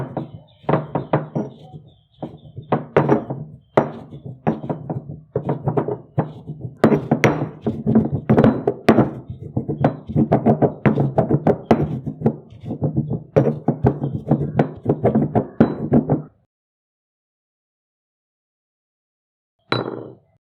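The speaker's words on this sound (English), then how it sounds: "grind 2 tablespoons of oats in a mortar and pestle" Quick-cooking oats pounded and ground in a mortar and pestle, a steady run of close, dull knocks and thuds for about sixteen seconds, then silence and one short final burst.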